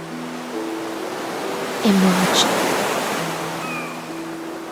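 A broad, steady wash of ocean waves from Honkai: Star Rail rolls on beneath soft game music tones, swelling briefly in the middle, with a single spoken word.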